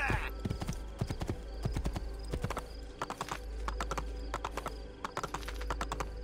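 Rapid clip-clop of horse hooves in a galloping rhythm in the video game Assassin's Creed 2, crisp and close, with a few short bursts of speech-like sound in between.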